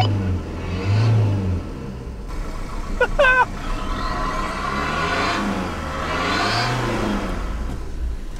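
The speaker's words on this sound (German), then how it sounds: "Die Drehzahl hat ein bisschen auf sich warten lassen, aber er fährt." A Fiat Ducato motorhome engine at about 5,000 metres altitude catches and revs up, holding a loud, steady drone that swells and falls slightly, with a brief mechanical squeal partway through.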